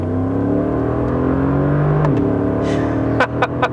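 A 2017 Mercedes G63 AMG with a big turbocharged engine accelerates loudly, its drone rising steadily in pitch, then easing off with a gearshift before a few sharp pops or bursts near the end.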